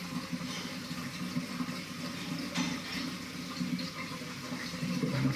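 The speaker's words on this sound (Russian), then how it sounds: "Ну, вот сифон зажурчал." Water from a Samsung WW80K52E61W washing machine drains through a sink siphon, producing a steady low gurgling and rushing flow that continues throughout and swells slightly near the end, with no talk.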